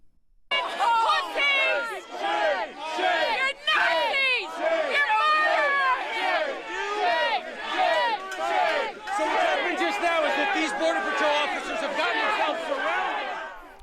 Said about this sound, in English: The protesters are shouting just vulgarities, harassing them